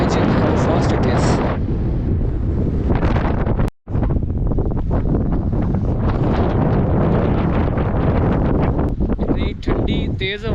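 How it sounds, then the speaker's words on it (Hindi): Cold, strong wind gusts loud and close against the microphone along a mountain road, roaring steadily with a brief dropout in the middle and some rustling near the end. "इतनी ठंडी तेज हवा चल रही है,"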